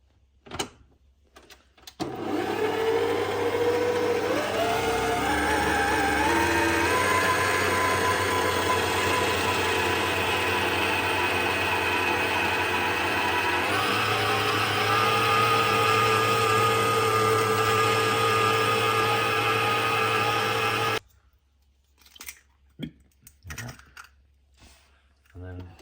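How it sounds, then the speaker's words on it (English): Electric mixer mixing sugar pastry dough, a steady loud motor whir with rising pitch that runs for about twenty seconds, then cuts off into quiet clinks. "And now I'm going to go over to the mixer"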